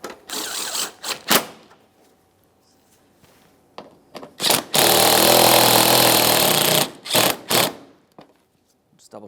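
Power tool snugging up bolts on the bumper impact absorber of a 2014-2018 Mazda 3, short close bursts of whirring followed by one longer sustained run, with pauses in between.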